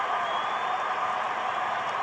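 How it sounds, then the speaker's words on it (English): At a Blue Jays vs Dodgers Game 7, a baseball stadium crowd roars in a dense, unbroken wash of noise that holds steady and loud for two seconds. "The crowd is going wild."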